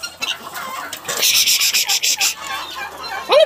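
Chickens cluck and squawk close by in a busy burst inside a farmyard shed, with guinea fowl present and a brief higher cry near the end.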